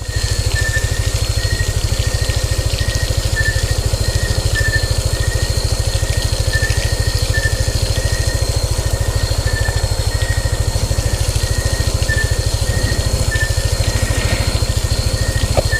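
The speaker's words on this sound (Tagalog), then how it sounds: "Patayin natin guys ang makina." An engine idles steadily at close range and drowns out everything else. It makes a loud, even mechanical throb with a fast pulsing rhythm that holds through the whole stretch with no voices.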